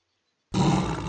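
A tiger's roar bursts in loud and close after half a second of silence, a deep, rough, sustained growl that holds steady to the end.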